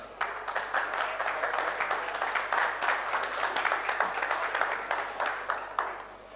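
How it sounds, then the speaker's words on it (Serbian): A live audience at a cooking event in Belgrade's Dom omladine gives dense, sustained applause for several seconds, then it tapers off, with faint voices underneath. "A jednim aplauzom ocenite kvalitet ovih rolnica."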